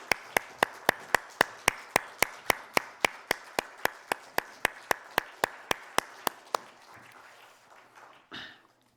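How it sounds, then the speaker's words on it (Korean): A church congregation claps in unison, about two dozen sharp, evenly spaced claps in a steady rhythm that stop abruptly, followed by a brief murmur and a short final burst of sound. "하나님께 영광의 박수 올려드리겠습니다."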